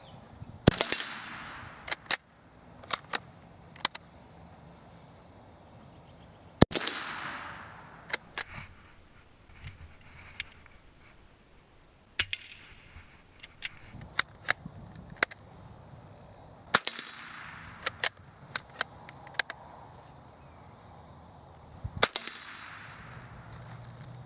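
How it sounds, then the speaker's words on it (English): Iver Johnson Model X self-cocking safety rifle fired standing at a target 25 yards away, five sharp shots spaced a few seconds apart with quieter clicks and handling noises between them, close and loud over a quiet outdoor background. "Just taking a couple quick shots just to show this thing off a little bit."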